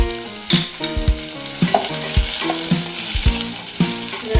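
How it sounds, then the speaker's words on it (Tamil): Garlic, ginger, onion and capsicum fry in melted butter for a chilli egg dish, giving a steady close sizzle with scattered stirring scrapes over melodic background music. "பூண்டு இஞ்சியை நம்ம ஃப்ரை பண்ணிக்கலாம். வெங்காயத்தை ஆட் பண்ணிக்கலாம். குடைமிளகாய் ஆட் பண்ணிக்கலாம்."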